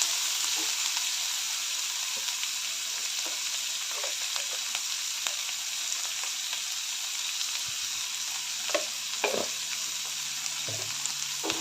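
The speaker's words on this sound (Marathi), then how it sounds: "सर्व घालून चांगलं परतून घ्यायचं आहे त्यामध्येच मी एक चमचा मीठ घालते म्हणजे कांदा टोमॅटो लवकर भाजले जातील" Onion and tomato fry in a pan with salt, giving a steady close sizzle throughout, with occasional soft scrapes and stirring clicks and no talk.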